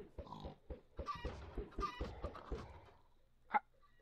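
Chickens in the Minecraft video game cluck in a rapid series of short, clipped clucks, fairly close and clear, then trail off with one last squawk after a brief pause.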